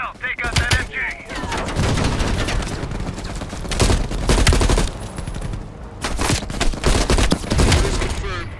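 Dense automatic machine gun fire in the Call of Duty Vietnam bunker mission, long rattling bursts with a few heavier booms, loud and continuous, with voices speaking over the gunfire.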